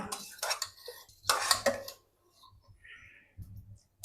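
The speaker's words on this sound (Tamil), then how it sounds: "தண்ணி நான் கிண்டி விட்டு காட்டுறேன், பார்த்தீங்களா?" Metal utensil clinking and scraping against a cooking pot while stirring water, in short bursts, then a quiet pause and a few softer knocks.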